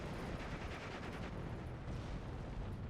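A T-34-76 tank fires in the WWII strategy game Steel Division 2, a dull, rumbling muffled blast with low-end roar, quiet and distant, decaying over a few seconds.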